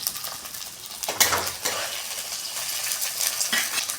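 Dried red chillies fry with garlic and ginger in a pan, a soft sizzle punctuated by a few metallic scrapes and clinks of a spatula stirring against the pan, close and moderately loud.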